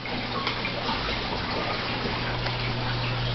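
An aquarium pump pushes air in and water out, giving a continuous, even rush of gushing and bubbling water at steady loudness throughout, with no talking.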